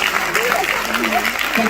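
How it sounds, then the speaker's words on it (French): An audience at a spring show applauds in a steady patter, with a voice talking over the clapping. "On peut applaudir."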